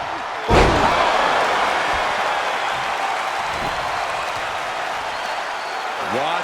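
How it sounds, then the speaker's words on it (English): A wrestling arena crowd at a Roman Reigns vs Bron Breakker match at Bad Blood: a heavy slam thud, then a loud sustained roar of cheering and applause, with a commentator talking over it. "Listen to this crowd."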